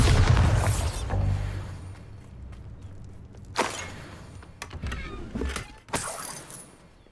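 Bombarda blasting spell in Hogwarts Legacy: a booming burst at the start, then sharper blasts with crackling debris, the explosions standing alone against a quiet background.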